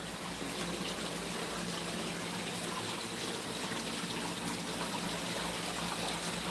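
Water steadily gushing and pouring to fill a newly dug farm pond, a continuous broadband rush that stays even and loud throughout, with no voices.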